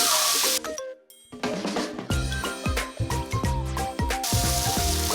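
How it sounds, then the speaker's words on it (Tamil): Jackfruit pieces sautéed in ghee in a pan for Kerala-style chakka pazha payasam, a steady loud sizzle with repeated scraping and stirring strokes of a spoon, close and continuous, no talk. "அந்த நெய்யிலே நம்ம இந்த பலாப்பழத்தை போட்டு நல்லா வதக்கிட்டே இருக்கலாம் கொஞ்ச நேரம்."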